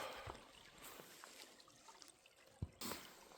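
Slow-moving creek water trickles gently and steadily in a snowy backcountry setting, faint and continuous with a few small splashes and drips, no voices.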